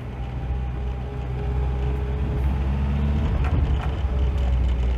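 A VAZ 2107 Zhiguli car engine with a sensitive throttle revs, its loud low drone rising and swelling over a few seconds, close and without talk.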